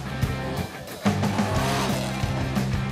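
A Suzuki Ultra 4 off-road vehicle driven fast on an expo adventure track, its engine roaring and revving in surges at moderate distance, with no voices.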